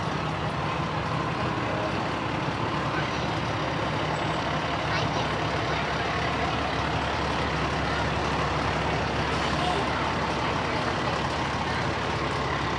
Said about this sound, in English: Here's a pumper truck.